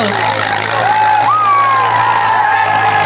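A New Holland tractor engine drones loudly and close during a trolley-pulling contest. A steady heavy rumble carries a whining tone that rises and falls briefly.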